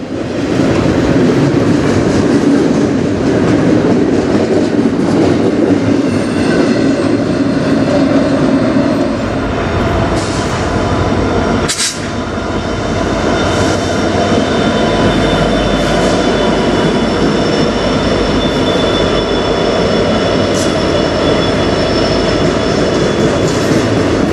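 A CN freight train rolls past nearby on the Strathroy Subdivision, a steady loud rumble of wagons and wheels holding for the whole stretch, with a brief sharp clank midway and a faint whine above.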